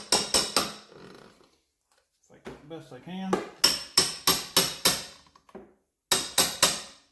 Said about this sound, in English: I try to hammer the belt down in there